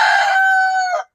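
A rooster crows in a large backyard chicken coop, a single loud, close call about one second long that holds steady and then cuts off, with no other sound around it.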